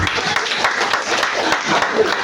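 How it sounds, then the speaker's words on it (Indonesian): Audience applause during a church sermon: a dense, steady wash of clapping from many hands that continues for the whole stretch without a break. "Tepuk tangan dong."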